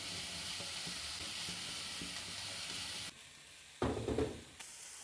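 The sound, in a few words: mixing spices into vegetable filling in a pan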